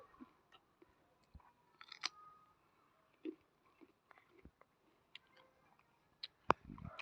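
Quiet, close crunching bites and wet chewing sounds of tamarind come in scattered bursts, with brief pauses between them and a few sharper snaps.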